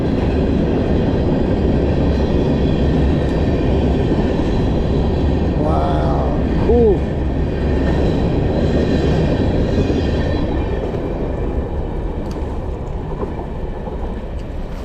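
A train passing by on a rail line in Hawthorne, New Jersey, a steady loud rumble with rail noise and a brief wheel squeal, heard from close beside the tracks under strong wind noise, with a person briefly speaking.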